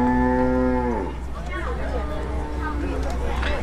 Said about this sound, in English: animal that just vocalized there is an Ankole cattle, and it is a form of domestic cattle